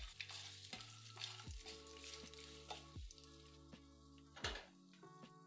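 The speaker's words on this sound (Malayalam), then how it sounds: "പിന്നെ 1 ടേബിൾ സ്പൂൺ വറുത്ത കപ്പലണ്ടി ചേർത്ത് എല്ലാം കൂടി ഒന്നിളക്കിയ ശേഷം ഗ്യാസ് ഓഫ്" Roasted peanuts and spices sizzling in oil in a pan while being stirred for lemon rice, with several distinct spoon scrapes and clinks against the pan over a soft, steady frying hiss.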